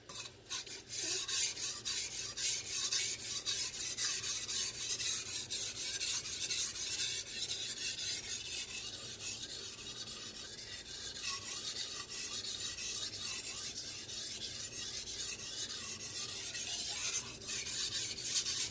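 Knife blade scraped back and forth on Dalstrong whetstones, a steady rasping grind in quick repeated strokes, close and continuous with no talking.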